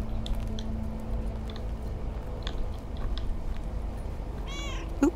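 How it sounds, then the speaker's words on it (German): Two cats in the video game Lake, meowing in short scattered calls over a low steady background hum, with one clearer meow near the end. "Oh, zwei Katzen."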